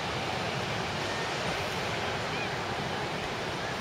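Ocean waves surge and wash continuously onto a beach where kids are surfing, a steady broadband roar with wind buffeting the microphone throughout.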